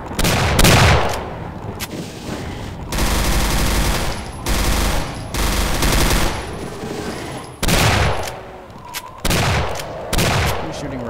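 Rockets and gunfire in Doom 2 on a large custom map, a dense run of loud bursts of rapid shots and booming blasts that come in blocks with brief gaps between them, dominating throughout.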